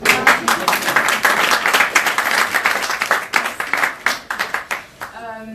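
An audience at a We Love Start-Up press conference in Lyon gives a round of applause. The clapping is steady and moderately loud over several seconds and fades out at the end, with a voice briefly audible.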